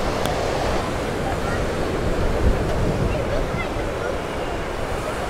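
Ocean surf rolls steadily onto a beach on a windy day, a constant broad wash of waves overlaid with gusty wind buffeting the microphone.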